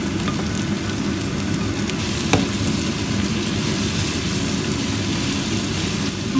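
Momos browning in a pan give a steady, close sizzle with a dense crackling hiss that holds evenly throughout, with one brief clink partway through.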